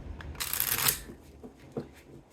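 Tarot cards riffle in a quick close shuffle, a bright papery burst followed by a few softer taps and flicks, alone without talk.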